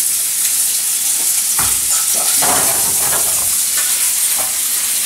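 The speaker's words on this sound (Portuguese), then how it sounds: "Vamos saltear aqui o nosso bacon." Bacon sautéing in olive oil in a pan, a loud continuous sizzle and crackle with occasional spoon scrapes and stirring knocks, close and without talk.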